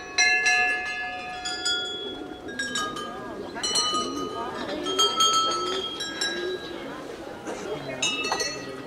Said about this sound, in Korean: 그런데 사원 안에서 쉼없이 종소리가 울려 퍼집니다.